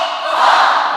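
A church congregation shouts together in one loud, sustained collective cry pushed from the belly, filling the whole short moment as a dense wall of voices.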